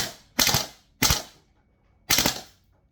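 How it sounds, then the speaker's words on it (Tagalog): A VFC Umarex HK416 A5 gas blowback airsoft rifle fires on full auto in three short, sharp bursts of rapid popping. Each burst has a brief decay, with clear gaps between them, and is heard close by. "Okay, testing natin ng full auto ngayon."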